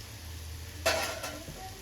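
Aloo bajji frying in hot oil on a stove, a faint steady sizzle with a brief louder burst of bubbling as batter is stirred or moved in the pan, no voices.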